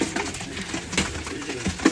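Fancy pigeons coo softly nearby, several short throaty warbling calls in an uneven rhythm.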